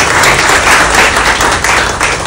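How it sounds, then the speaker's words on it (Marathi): A room of women at a group meeting claps to welcome 21 newcomers, loud close applause rolling steadily throughout without speech. "टाळ्या वाजवा त्यांच्यासाठी."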